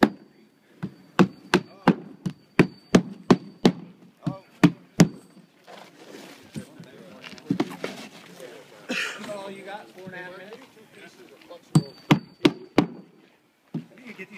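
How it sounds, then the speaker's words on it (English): Compressor-powered pneumatic nailer driving nails into asphalt roof shingles, a quick series of sharp, evenly spaced bangs, then a stretch of handling noise and muffled talk before three more shots close by. "plus nailing shingles."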